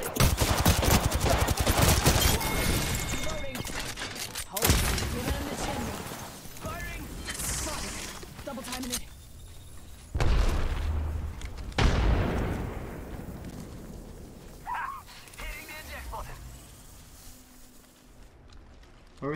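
Gunfire and explosions in a shooter video game featuring the character Bangalore, with loud bursts of shots and booming blasts that fade and return over a long stretch of battle, along with faint voices.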